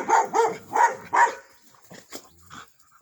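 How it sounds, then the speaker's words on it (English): A puppy barks four times in quick succession, loud and close, followed by a few softer yips and whimpers trailing off. "That's Vera barking there"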